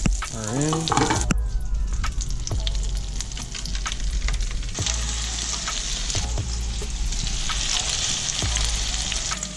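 Butter sizzling and spitting loudly in a makeshift pan standing in for a cast iron skillet, with a brief high squeal at the start, then a steady crackling fry with scattered pops throughout.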